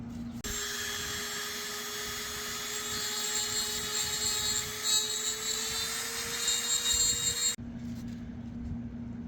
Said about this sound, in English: So I'm gonna continue dremeling this handle section.